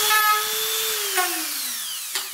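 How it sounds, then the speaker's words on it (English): A Dremel rotary tool whines close by as it cuts a hole in a plastic bucket, its pitch sliding slowly down under load, then a short burst of grinding near the end. "We'll go ahead and cut that out with a Dremel"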